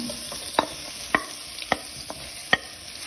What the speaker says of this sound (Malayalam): ആ നെയ്യിലേക്ക് ഏത്തയ്ക്ക കട്ട് ചെയ്ത് വെച്ചിരിക്കുന്ന ഏത്തയ്ക്ക അത് നമ്മൾ ചേർക്കുവാണ്